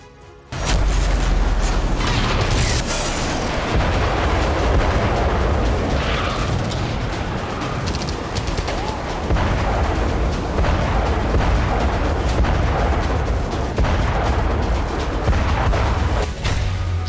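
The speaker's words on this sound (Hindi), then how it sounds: "यहां बाकी क्षेत्रों से ज्यादा बारूद बरसने लगा है।" Artillery shelling in Robotyne, Zaporizhzhia, during the Russia-Ukraine war rumbles as loud, continuous deep booms with heavy low-end thunder and blasts layered over one another, starting abruptly and carrying on at a steady loud level.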